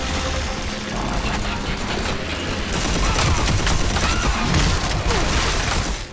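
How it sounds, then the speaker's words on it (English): Dense, loud gunfire and clattering mechanical bursts from the video game Red Faction: Armageddon, a sustained chaotic barrage with booms, and a voice speaking briefly over it. "Friendly fire."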